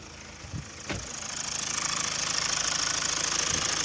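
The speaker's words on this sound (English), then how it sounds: "That is the engine running." A 2012 Mazda CX-5 diesel engine starts, then idles with a steady, even rumble and a light diesel clatter that builds over the first second and holds close and constant.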